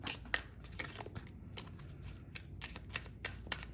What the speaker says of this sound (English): Oh, this shuffling is ugly today.